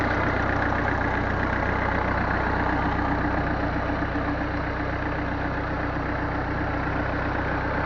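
A 30 HP Vishakti tractor engine idles close by, a loud, steady low-pitched chugging drone that runs unchanged throughout.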